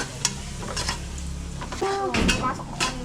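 Garlic browning and sizzling in a pan while being stirred with a utensil, a steady fry hiss broken by scraping strokes and light clinks, with a voice talking over it now and then.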